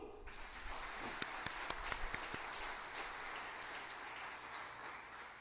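Church congregation in Daejeon bursts into applause, a quiet wash of many hands with a few sharp, louder nearby claps standing out, continuing steadily for several seconds.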